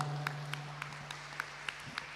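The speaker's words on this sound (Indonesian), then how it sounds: "Tepuk tangan dulu untuk senat universitas Winarani ini" Faint, sparse applause for a university senate at a national student legislative training event, a few light claps spaced evenly over a steady low hum.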